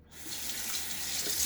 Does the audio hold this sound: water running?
yes